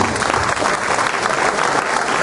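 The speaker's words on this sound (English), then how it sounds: "give yourself a big round of applause." Audience at an Edusave award presenting ceremony applauding, a dense, continuous wash of many hands clapping from start to finish.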